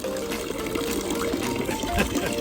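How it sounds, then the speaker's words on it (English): Cold Alpine mountain water gushes steadily into a bottle near Interlaken, Switzerland, a close, continuous splashing pour with no pauses. "So now I'm gonna fill the water right here."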